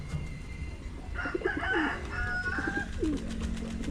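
Pigeons at a pigeon loft coo and warble close by in short throaty phrases over a low background rumble.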